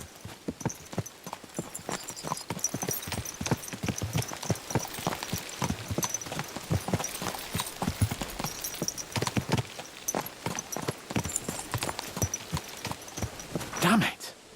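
Horses' hooves gallop at a steady fast clip in Kingdom Come: Deliverance II, a continuous drumming of hoofbeats throughout, with a brief louder burst near the end.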